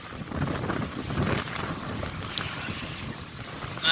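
Wind buffets a sailboat under way on the River Colne, wind over tide toward Felixstowe, a steady blustery rush with water wash and spray against the hull, continuous and close with no talk.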